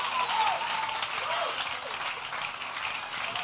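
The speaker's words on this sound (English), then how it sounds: "Clap for if you want to clap. Clap." A congregation at a church lecture claps together in a continuous, even burst of applause, with a faint voice calling over the clapping.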